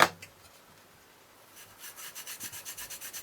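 Sanding on a Tamiya 1/24 Ford Mustang GT4 plastic model kit: after a quiet start, a quick series of soft, even rubbing strokes arrives close and faint, with no voices.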